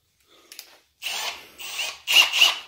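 A chamfer tool cuts a chamfer, giving short bursts of harsh scraping and grinding that start faint and grow louder and rougher toward the end, close up with no speech.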